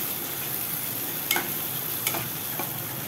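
Red chilli powder and onion-garlic masala sautéing in a pan for dried Bombay duck chutney, a soft steady sizzle with a few light scrapes of stirring.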